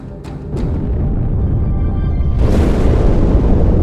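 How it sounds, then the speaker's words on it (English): A Halo 2 explosion erupts inside a warship in space, a heavy sustained rumbling roar that swells louder partway through, with no voices over it. "That explosion came from inside the Athens, same as the Malta."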